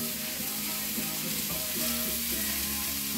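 Chopped onion sautéing in a frying pan, a steady close sizzle and hiss running unbroken throughout with faint stirring underneath, as it would in a home kitchen for a Peruvian huancaína noodle and chicken dish.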